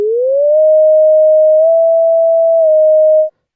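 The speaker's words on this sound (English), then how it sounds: "So here's a theremin sound." A single theremin note glides up at the start, then holds a pure, steady pitch with slight wavers for about three seconds before cutting off cleanly, loud and alone with no other sound.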